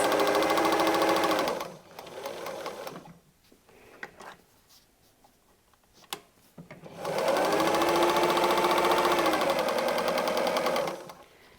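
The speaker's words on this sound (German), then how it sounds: "ob ihr vielleicht noch 1 oder 2 Stiche nähen müsst" A sewing machine stitches patchwork seams in two sustained, loud runs of rapid steady needle clatter, separated by a quieter pause of a few seconds with faint handling noises.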